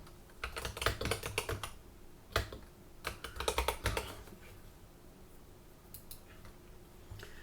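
Close typing on a computer keyboard, in irregular bursts of quick key clicks separated by short pauses, with no talk.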